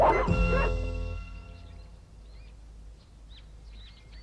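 Dog in an animated Puss in Boots cartoon episode: a short burst of barking and yelping at the start that fades out, followed by faint bird chirps in the background.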